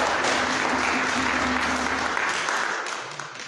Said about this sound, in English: can we now have a huge round of applause?